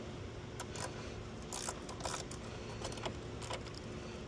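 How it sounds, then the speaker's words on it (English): A small ratchet clicks as it backs out T30 screws from a BMW X5M Competition LCI rear taillight, with quick, close clicking bursts and faint handling noise, no talking. "because this is a small one, I need a small ratchet"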